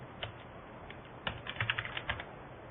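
A web address is typed on a computer keyboard, with soft, quick key taps that start sparse and then come in a faster cluster, faint and close.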